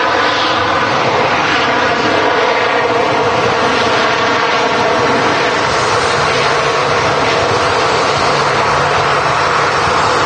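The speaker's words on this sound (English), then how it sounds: "KLM touching down from Amsterdam." A KLM airliner arriving from Amsterdam lands at Manchester Airport, giving a loud, continuous roar of jet engines and wind rush that holds steady throughout.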